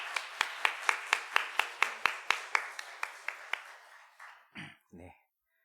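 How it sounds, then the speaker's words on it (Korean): Church congregation at a Wednesday worship service clapping in unison, about fifteen sharp, evenly spaced claps that gradually soften and slow, ending with a couple of brief murmured words at the close. "우리 다시 한번 우리 찬양을 기뻐 받으신 하나님께 기쁨과 감사의 박수를 드리겠습니다"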